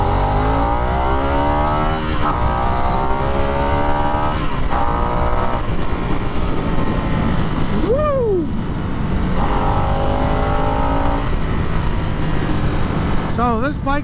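A 2023 Harley-Davidson Nightster Special with its 975 Revolution engine accelerating on a track, a loud, close, continuous engine roar under heavy wind rush, with pitch sweeps as it revs.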